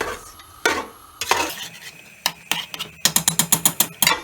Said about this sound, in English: we want to sweat the onions but cook them right through so that they're actually brown